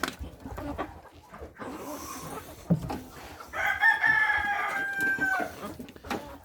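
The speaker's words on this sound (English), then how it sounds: "Here we got one of one black sex-link roosters." A young black sex-link rooster crows once on a ranch, a strained, wavering call held for a couple of seconds, close and fairly loud over soft background clucking and rustling.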